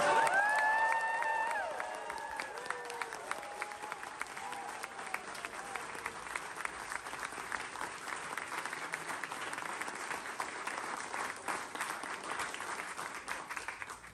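A graduation audience in Cambridge's Senate House bursts into loud, sustained applause with scattered cheers, dense clapping continuing steadily after a brief louder opening swell.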